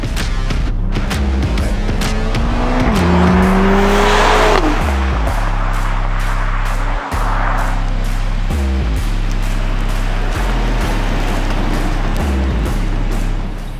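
A 2021 Mercedes-Benz GLA 45 AMG with a small, high-boost turbocharged engine accelerates hard, its engine note climbing and dropping through several quick gear changes, loud and close with no talk.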